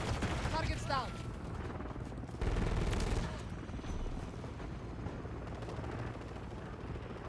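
Rifle fire from the Holger 556 in Modern Warfare 3 crackles in short bursts amid dense game battle noise, with a louder blast cluster in the middle and continuous background combat.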